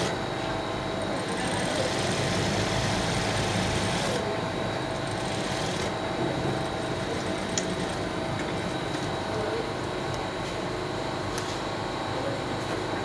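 A sewing machine runs steadily while stitching the pocket of a cargo skirt, giving a continuous close whirring hum that holds at an even level throughout.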